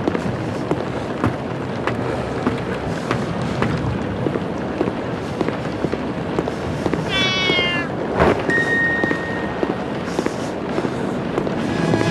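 Cats meowing in the horror video game The Dark Internet Version 2.0: a short run of stacked meows in the middle, followed by a thin sustained tone, over steady busy game ambience with no talk.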